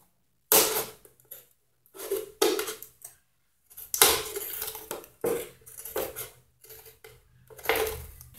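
Plastic soda bottle being cut, heard as a series of separate crunchy snips and crackles in short bursts with pauses between them, close and fairly quiet.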